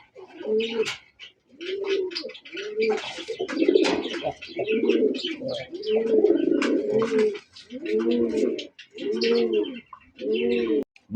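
Domestic pigeons, including a desi male, coo in a steady series of rounded, throaty phrases close by, with small chirps and faint background noise in the gaps.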